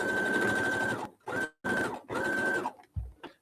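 A sewing machine stitches a zipper pencil pouch in several close, loud bursts of rapid whirring, with short pauses between runs and a soft thump near the end.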